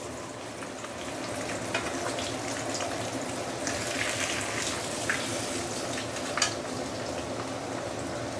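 Black pomfret deep frying in hot oil gives a steady, continuous bubbling sizzle with occasional sharper pops and crackles, close and even in loudness.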